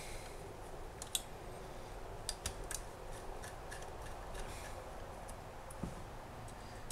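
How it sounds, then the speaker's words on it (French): Small screws being unscrewed on a Canon 350D camera: faint, close metallic clicks and ticks, scattered and irregular, over a quiet hiss with no talking. "Donc, je vais dévisser."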